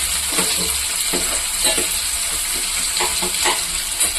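Chopped onion sizzles in hot oil in a pan for chicken liver fry, a dense, steady hiss broken by occasional scrapes and crackles as it is stirred, heard up close.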